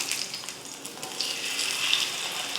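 Fish frying in oil over a low flame after being flipped gives a steady, even sizzle with a bright crackle, heard up close with no talking.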